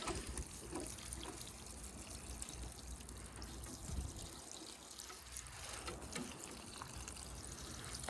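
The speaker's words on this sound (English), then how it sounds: "we're gonna water this guy" A steady, quiet trickle of water pouring onto a hanging-basket plant in a garden, continuous and soft, with a faint background hiss and no voices.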